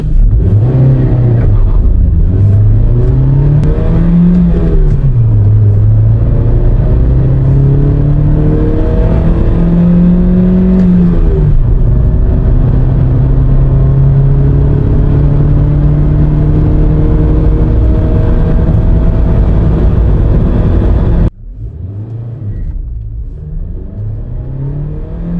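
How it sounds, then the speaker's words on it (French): Hyundai Getz engine accelerating hard from standstill to 100 km/h, loud continuous revving with rising pitch sweeps through several gear changes, then a sudden drop to a quieter engine note near the end. "Quand je vous dis que la voiture fait le 0 à 100 en premier essai 21 secondes et deuxième essai 18 secondes."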